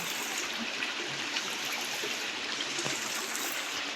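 Water pours into a brimming stepwell after night rain, a steady, close hiss of flowing water with no speech over it.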